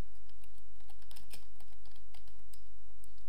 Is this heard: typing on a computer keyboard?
yes